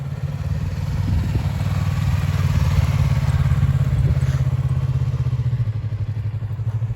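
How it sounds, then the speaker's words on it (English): A motorcycle ridden slowly around a practice corner with the clutch feathered, a steady close mid-pitched engine thrum with slight surges and a faint clatter, no voices. "she's feathering the clutch as she comes around the corner"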